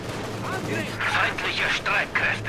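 Tank cannon fire aimed at a Panzer IV in Company of Heroes 2 comes as a run of rapid, fairly loud booming blasts in quick succession, with a voice speaking over it.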